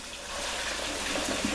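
Cooked lasagna noodles draining, a steady hiss of water pouring and trickling that swells slightly over a short moment, close and continuous with no talk.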